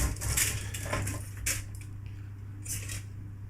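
Coated vegan wings are moved by hand or utensil back onto a baking tray, giving soft scrapes, light clinks and a few brief taps close up over a steady low hum.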